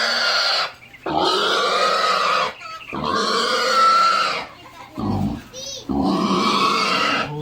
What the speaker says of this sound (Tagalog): so dumating na yung baboy